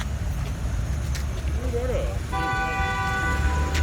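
A car horn honks in city traffic on a Yerevan street, a couple of steady toots over a constant low rumble of engines and road noise.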